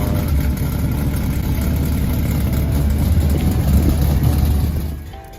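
A Chevy Caprice with a supercharged LSA V8 and fresh injectors idles with a steady, loud, deep exhaust rumble, easing off slightly near the end.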